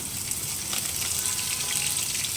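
Green chillies crackle and sizzle in hot oil in a pan for a beetroot fry, a close, even frying hiss that builds slightly as they settle, with no talking.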